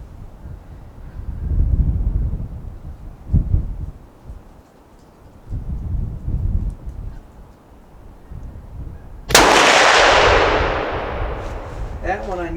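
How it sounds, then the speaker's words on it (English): A single loud rifle shot during off-hand target practice cracks out sharply and rings off into a decaying echo, after a stretch of low rumbling noise and handling sounds. "That was another decent shot, just outside the bullseye."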